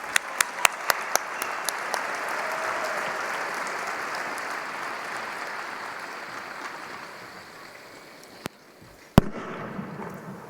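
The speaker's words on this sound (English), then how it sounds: "Please join me in giving a hearty round of applause to all of our scholarship award recipients tonight." An audience at an evening opening show applauds scholarship award recipients, starting with a few sharp separate claps and building into sustained applause that gradually fades, then a few loud isolated claps near the end.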